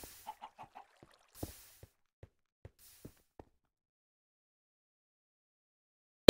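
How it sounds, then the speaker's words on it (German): Chicken in the Minecraft modpack Agrarian Skies gives a few short clucks at the start, followed by sparse, evenly spaced soft pops in near silence. "Oh, ach komm, Huhn, gib mir ein Ei."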